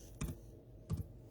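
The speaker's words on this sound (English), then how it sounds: "I'm typing with one hand." Two short bursts of keystrokes on a computer keyboard, typed with one hand, each a quick cluster of clicks close to the mic, separated by a brief pause in a quiet room.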